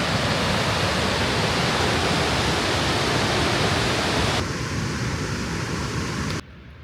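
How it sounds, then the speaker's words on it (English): White River Falls in Oregon, water pouring over lava rock in a loud, dense, continuous roar that drops in level toward the end. "This is our next stop at White River Falls. I can hear it"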